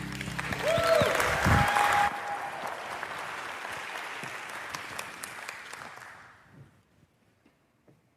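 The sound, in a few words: audience applause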